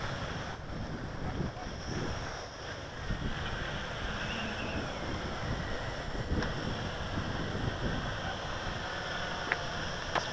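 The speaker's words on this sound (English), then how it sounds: "it's pretty breezy this morning" Breezy morning outdoors during a QRX350 drone test flight, with steady wind buffeting and rushing across the microphone the whole time, a constant broadband roar with no voices.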